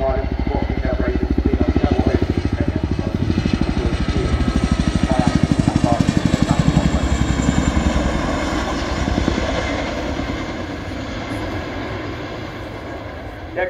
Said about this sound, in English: The aircraft's now moving away to our right and pulls up by 30 degrees into offset right-hand wing over.